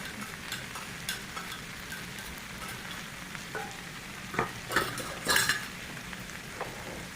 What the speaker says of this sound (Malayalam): നന്നായി മിക്സ് ചെയ്ത് കൊടുത്ത് ഇളക്കി കൊടുക്കുക